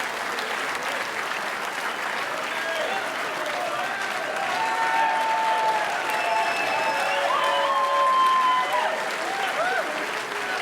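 Sustained roaring applause and cheers from a large crowd after a snooker World Championship final win, steady and swelling, with a commentator speaking over it.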